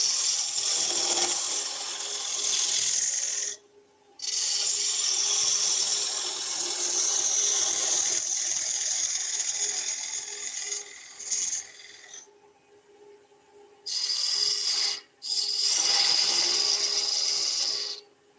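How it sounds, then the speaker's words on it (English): Wood being turned on a lathe with a gouge, a steady close hissing cut that runs in long sustained passes, broken by a few short pauses as the tool lifts off the spinning workpiece. "it's gouge work from here on out"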